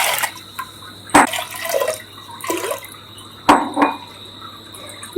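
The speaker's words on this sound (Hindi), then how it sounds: "और ये पानी डालें।" Water poured into a cooking pot holding dry fish and chilli, with several splashing pours and drips separated by pauses, close and fairly loud.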